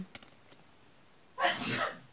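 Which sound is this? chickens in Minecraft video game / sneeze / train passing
sneeze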